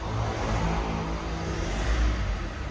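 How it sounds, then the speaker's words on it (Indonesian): A Mitsubishi Pajero Dakar's engine revs at a moderate distance, a low, rumbling surge rising and easing with a faint airy whoosh over it; no voices. "Tuh turbonya wushing."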